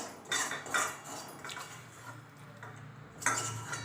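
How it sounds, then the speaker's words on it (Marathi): Cooked Malabar spinach being served into a dish, with a few light clinks and scrapes of a spoon against the vessel, quiet and close, spaced irregularly with soft pauses between. "भाजी आता आपण डिशमध्ये काढून घेऊया"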